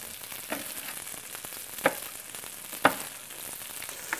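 Onion and tofu fry in a pan with a steady, close sizzle, broken by a few louder pops and stirring scrapes.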